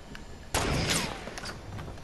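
Gunfire in a video game, a sudden loud burst of shots with a ringing tail, followed by fainter scattered pops.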